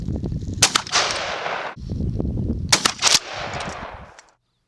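A 12 gauge shotgun firing Federal Black Cloud steel BB shells at an outdoor range: two pairs of sharp, loud blasts close by, each followed by ringing echo and a steady rush of background wind.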